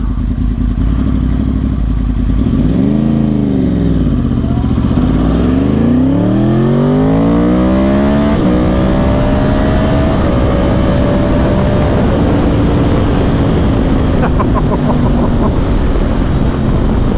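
A motorcycle fitted with a Healtech quickshifter accelerates hard through several quick upshifts, its engine note climbing and dropping with each gear change, loud and close over wind rumble.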